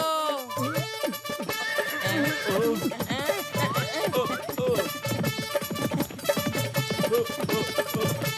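A cartoon robot horse neighs in loud, wavering whinnies that repeat across the clip, mixed with hoof-like clip-clop hits and bursts of animated voices talking over the effects.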